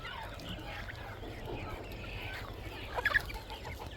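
Chickens about three to three and a half months old cluck softly in a noisy farmyard, with a brief louder squawk near the end and faint voices in the background.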